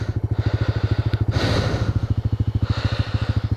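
A Yamaha FZ-07 motorcycle engine idles close by after a restart, its exhaust pulsing in a steady rapid rhythm with a brief burst of revving in the middle, on soft ground outdoors.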